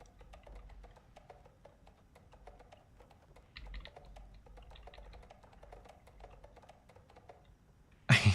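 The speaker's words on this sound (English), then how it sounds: "It's really quiet, but I like the keyboard sound." Quiet typing on a computer keyboard during an Alan Wake 2 session, soft rapid key taps in an irregular rhythm throughout, close and faint, ending with a brief loud bump.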